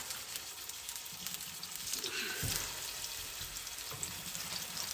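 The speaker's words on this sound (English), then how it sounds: "Because right now what I'm doing is I just want to sear them. Not sear them, just brown them a little." Lamb shanks browning in oil in a pan produce a moderate, steady sizzle, with a brief low thump or shift partway through, heard alone without talk.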